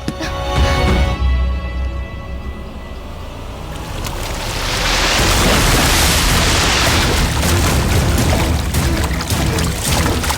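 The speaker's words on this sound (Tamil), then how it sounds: "என் வைஃப் தண்ணியில விழுந்துட்டா" A person falls heavily into water, a loud surging wash of spray and churning water that builds and lingers for several seconds, with no voices.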